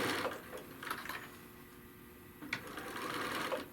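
A sewing machine runs a quarter-to-three-eighths-inch seam along a bag handle, its needle whirring steadily through the whole stretch, with a short pause and a louder restart near the end.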